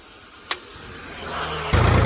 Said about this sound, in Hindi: अब बढ़िया चल रहा है ट्रैक्टर